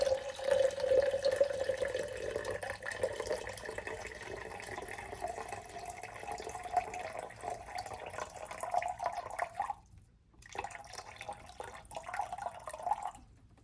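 Water runs steadily into a container for several seconds, about 400 grams measured for pour-over coffee, a bright trickling pour that pauses briefly near the end and then resumes.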